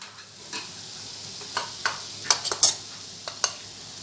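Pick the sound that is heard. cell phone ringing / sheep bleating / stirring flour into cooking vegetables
stirring flour into cooking vegetables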